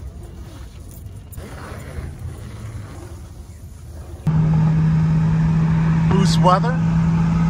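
A JDM import car drives along the road, with wind and road noise first and then a loud, steady engine drone. A voice speaks briefly over it.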